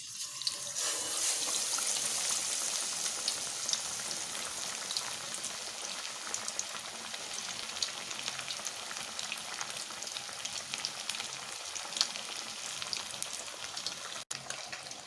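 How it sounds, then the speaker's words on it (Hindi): Batter-dipped fish frying in hot oil, heard as a loud, continuous crackling sizzle with dense popping that starts suddenly and holds steady throughout, close up, with no talk. "अब मैं इसे गरम ऑयल में डाल रही हूँ।"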